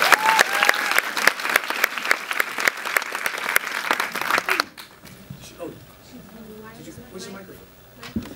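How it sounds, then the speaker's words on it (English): An audience at a gala gives enthusiastic applause for several seconds, dense clapping that then cuts off abruptly, leaving quiet room tone with faint murmurs. "let's give her a big round of applause."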